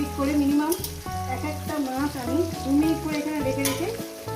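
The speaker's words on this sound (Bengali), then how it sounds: "ভাজবো বন্ধুরা মাছগুলো আমার এক সাইড পুরো ভাজা হয়ে গেছে" Rui fish frying in hot oil in a pan, a steady close sizzle with harmonic tonal sounds layered over it throughout.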